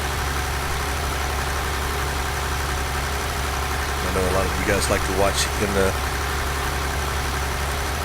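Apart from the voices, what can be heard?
tractor engine running in farming game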